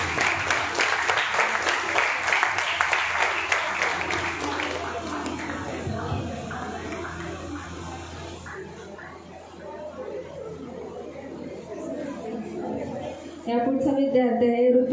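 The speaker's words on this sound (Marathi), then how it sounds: "बाकीच्यांनी टाळ्या वाजवायच्या." Students applaud at a class results ceremony for SSC toppers in Barshi, Maharashtra, a dense clatter of many hands that is loudest early, thins and fades toward the middle, then picks up again at the end, with some chatter mixed in.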